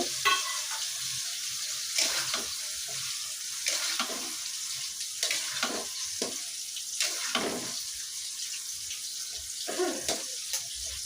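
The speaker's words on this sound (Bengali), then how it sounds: "বেগুনটা দিয়ে মশলার সাথে খুব ভালো করে কষিয়ে নিব" Eggplant stir-fried with spices in a pan for a fish curry, a continuous close sizzle broken by repeated scraping strokes of a spatula every second or so, no voices.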